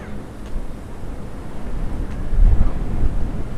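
Gusty wind buffets the microphone on a cold January day near the Williamsburg Bridge in New York City, a steady low rumble that swells louder toward the end, with no talking.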